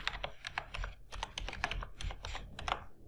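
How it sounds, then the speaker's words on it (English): Rapid, uneven keystrokes on a computer keyboard as a password is entered at the MySQL command line client on Windows, close and clear, with short pauses between bursts. "In order to start MySQL, you need to type the password you created"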